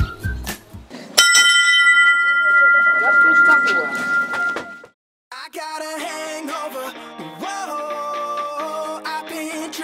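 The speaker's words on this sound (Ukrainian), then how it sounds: "ранку нас будив і скликав на зарядку справжній морський дзвін, який називається ринда" A ship's bell, a rynda, rings at a sailing sports camp as a wake-up and morning-exercise call, its sustained metallic tones lasting several seconds. Music with melody then takes over.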